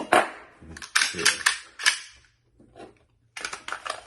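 An HK P30L 9mm handgun is handled and cleared, giving close, sharp metallic clicks and clacks of the slide and action in short clusters, with a quiet pause partway through.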